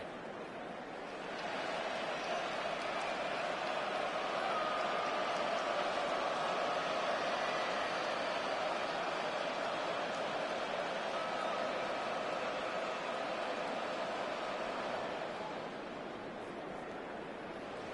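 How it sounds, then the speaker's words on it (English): Stadium crowd in an American football video game swells into a loud, steady roar that holds for about fifteen seconds and then eases slightly. "The crowd cranking it up another notch before third and long."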